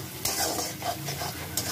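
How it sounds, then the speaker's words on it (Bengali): Poppy seed paste ground with green chilli fries in a pan with red chilli powder, a soft steady sizzle broken by scraping strokes of stirring. "এবার ভাজা ভাজা করে নেব"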